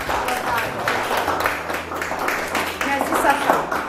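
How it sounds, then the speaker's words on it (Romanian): Audience applause at a surprise home visit for a mother in the village of Racovăț, Soroca, a lively, uneven patter of many hands clapping for several seconds, with voices mixed in. "Aplauze dumneavoastră!"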